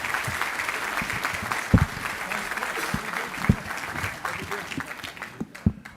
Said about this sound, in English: I don't want to step on the speaker's applause